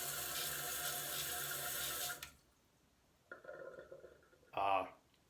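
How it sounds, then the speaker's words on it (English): Water rushes steadily as a toilet tank refills through a Fluidmaster fill valve, then cuts off abruptly into quiet, followed by a softer trickle, with speech-like sounds near the end. "toilet's running, filling up"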